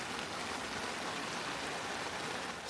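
Rain falls steadily outside in the Sierra Nevada mountains, a dense, even hiss with no breaks and no voices.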